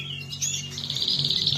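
Norwich canaries chirp and trill close by, bright rapid tweets running almost continuously over a soft background hum.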